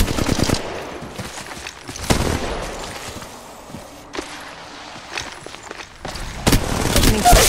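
Bursts of gunfire crack out in the mobile shooter Apex Legends Mobile, short loud volleys separated by quieter stretches of footsteps and movement.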